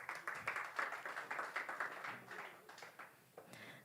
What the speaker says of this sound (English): Another round of applause as he walks off stage, please.